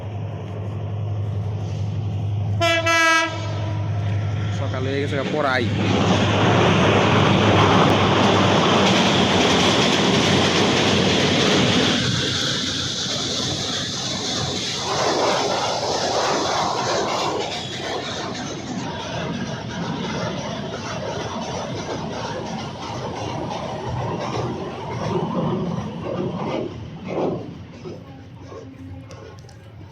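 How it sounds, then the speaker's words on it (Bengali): A train roars past close by, loud and rumbling with a horn blast early on, then slowly fades while a few voices talk. "ওই যে ট্রেন আইতাছে"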